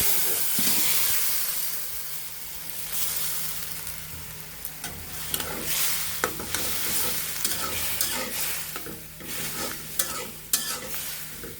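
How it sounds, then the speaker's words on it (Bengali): Vegetables are tipped into fried spices in a pan for a hotel-style mixed vegetable bhaji, then stirred, giving a soft continuous sizzle and hiss under a run of close, irregular spatula scrapes and clatters, with no talking. "একদম মশলাটা একদম ভাজা ভাজা করে নেব। এভাবে কিছুক্ষণ নেড়ে চেড়ে ভাজা ভাজা করে নেব। ভাজা ভাজা হয়ে গিয়েছে। এখন আমরা সবজিগুলো ঢেলে দেব।"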